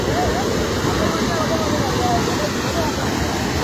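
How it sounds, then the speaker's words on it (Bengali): Floodwater roars steadily down through a broken culvert, a loud, unbroken rushing wash with no pauses, heard up close. "কি স্পিডে পানিটা নামে আসছে"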